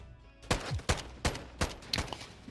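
Semi-automatic gunfire in a Call of Duty match, five or six evenly spaced sharp shots ringing out loud and close in quick succession.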